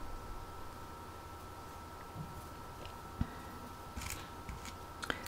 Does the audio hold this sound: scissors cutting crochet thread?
yes